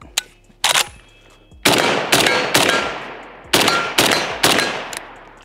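Suppressed Riley Defense Krink rifle firing about seven shots in an uneven sequence, each report loud and close with a short decaying tail, spaced roughly half a second to a second apart.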